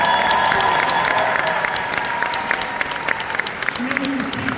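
An audience applauds at a high school jazz band spring concert, a full, close round of clapping with some crowd noise that gradually thins out over a few seconds.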